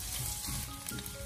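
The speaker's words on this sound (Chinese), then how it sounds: "再把肉丁给它放进锅里面，开小火给它翻炒一下" Diced pork stir-fried in a little oil over low heat in a wok, a steady soft sizzle running throughout with faint stirring scrapes, fairly close.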